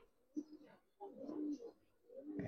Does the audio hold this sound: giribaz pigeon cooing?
yes